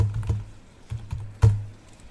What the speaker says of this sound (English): Once done, type in netsh winsock reset